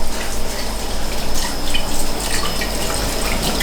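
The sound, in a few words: washing a spoon under a running tap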